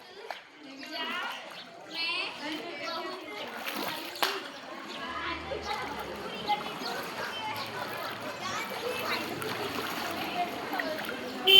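Rainwater flooding a road during heavy rain splashes and rushes steadily into a pipe, with voices chattering over the flow and a few sharper splashing bursts.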